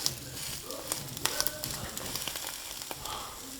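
French toast donuts sizzle in a pan while being pressed down, a soft, uneven crackling hiss with small pops and light handling knocks.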